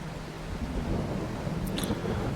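Steady rain hiss with a low rumbling undertone of thunder in Farming Simulator 22 on the Zielonka farm map, with a few faint higher ticks late on and no talking.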